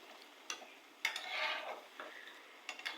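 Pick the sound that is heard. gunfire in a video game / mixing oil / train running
mixing oil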